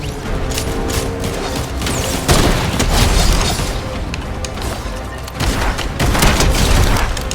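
Gunfire in the Fortnite video game, a dense run of loud booming shots and bursts that continues throughout, swelling in heavier volleys near the middle and end.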